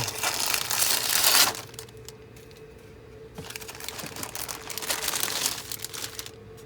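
Plastic parts bag of a Panda Models 1:48 Lockheed Martin F-35B Lightning kit crinkling and rustling as it is torn open, a loud burst at first, then quieter intermittent crackles close by.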